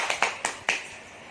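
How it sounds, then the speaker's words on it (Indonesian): A few sharp hand claps from a small group at a community health and nutrition class, four separate claps spread over about a second with no talking. "Tepuk tangan dulu dong. Tepuk tangan."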